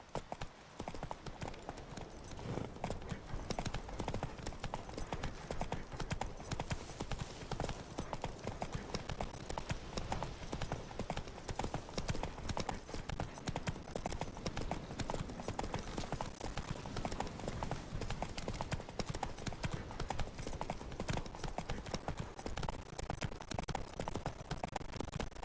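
Roach the horse gallops in The Witcher 3, with a fast, even drumming of hooves that runs close and loud for the whole stretch and barely changes after a brief start-up.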